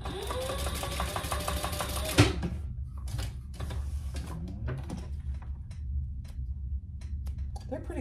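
A sewing machine bastes fabric pieces for a waist pack, running in a steady rapid stitching burst for about two seconds, then stopping into quiet handling noises and small clicks.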